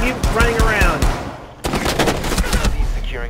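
Gunfire in the Rainbow Six Siege game during a team deathmatch Secure Area match on the Consulate map: loud bursts of shots and impacts across the clip, with players talking over them.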